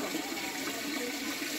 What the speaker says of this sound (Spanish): se le echó un poquito de agua más